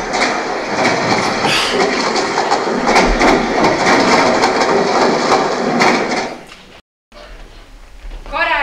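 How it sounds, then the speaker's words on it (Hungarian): A train-on-rails sound effect plays during a drama club's Christmas stage play: loud rhythmic clattering of wheels over rail joints for about seven seconds, a brief gap of silence, then a quieter continuation. "Felszállt a vonatra"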